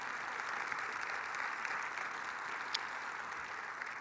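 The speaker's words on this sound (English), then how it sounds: "Please give Vivek a huge round of applause" Steady audience applause fills a conference room at a civic innovation event, dense and continuous clapping from a crowd with no break.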